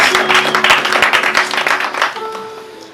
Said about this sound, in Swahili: Piga makofi mazito kwa Bwana Yesu.